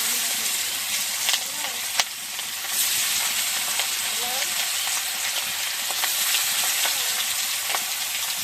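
Fish fries in hot oil with cumin, a steady close sizzle and crackle with occasional sharp clinks of a utensil stirring the pan.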